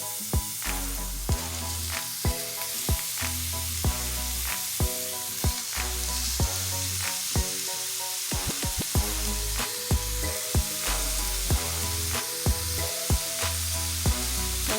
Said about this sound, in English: now we're going to add our ground beef in